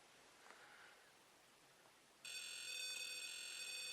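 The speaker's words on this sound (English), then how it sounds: "you've got the audible buzzer." A Paratech pocket EMF detector is quiet at first, then its audible buzzer cuts in abruptly partway through, a steady, shrill electronic tone that continues to the end.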